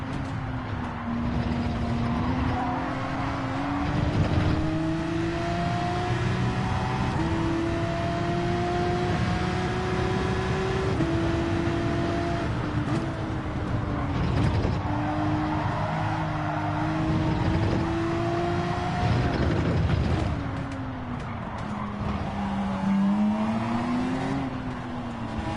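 A loud race car engine revs continuously at Monza, its pitch climbing and dipping as it accelerates and shifts, close and steady throughout.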